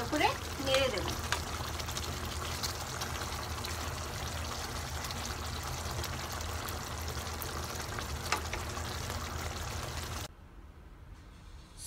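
Catla fish kalia curry being stirred as it fries in a pan, giving a steady close sizzle with faint scraping, continuous until it drops away abruptly near the end.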